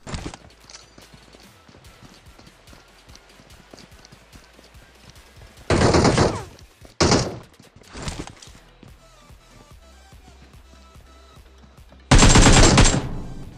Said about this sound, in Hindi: मेरे को सुनाई देती कोई तो गोली चला रहा होता है